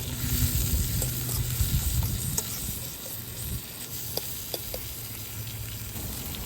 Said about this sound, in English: So now, let's get our vegetables nice and cooked down